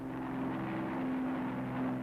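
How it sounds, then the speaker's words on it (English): Day bomber aircraft fly over coastal installations in 1946 invasion newsreel footage, a steady, loud, droning engine hum that continues without a break and has no voices over it. "Day bombers blast coastal installations, continuing the heavy attacks of the night before."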